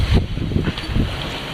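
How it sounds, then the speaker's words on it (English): Wind roars steadily past a sailboat on a broad reach in 20 knots of wind off Scotland, with a brief gust-like buffet at the start and water rushing beneath. "we've got 20 knots of wind and we're on a broad reach"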